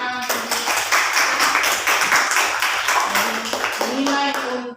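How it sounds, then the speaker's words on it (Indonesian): Lively clapping from a classroom audience during an Islamic lesson, a loud, dense run of hand claps with a few quick rhythmic beats, while voices call out and chatter over it near the end. "Oke, berikan tepuk tangan."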